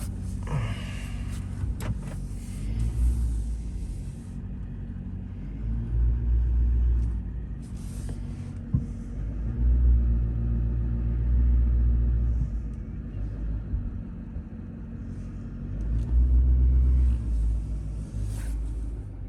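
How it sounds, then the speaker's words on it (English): A truck backing up slowly near a barn, its engine giving a steady low rumble that swells and eases in several surges, with faint knocks and clunks over the idling. "All right, back it up, Terry."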